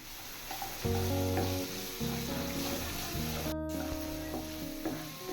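Garlic paste frying with onion paste in oil, a steady sizzle with spoon stirring and scraping throughout, over a background of tonal hum and a brief dropout partway through.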